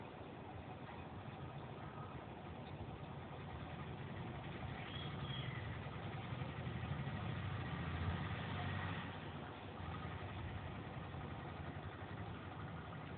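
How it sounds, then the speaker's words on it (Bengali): An auto-rickshaw comes up the road with a steady, mid-pitched engine drone that grows a little louder toward the middle and then eases off, under continuous traffic rumble with no talking. "অটোই আসছে।"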